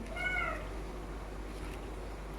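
A cat meows once near the start, a short rising-and-falling call over steady low kitchen hum, then only the background drone continues.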